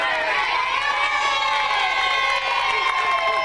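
A big studio crowd at an egg-throwing contest cheers and shouts in a loud, dense, continuous roar that fills the whole moment.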